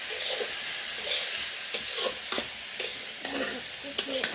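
Potatoes and bottle gourd pieces stirred with spices in a frying pan, with soft scraping strokes and light clatter of a spatula over a steady sizzle, close and alone.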